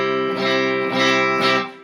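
A barre chord strummed on guitar, ringing out three times in quick succession with sustained harmonic tones, clear and close with no talking.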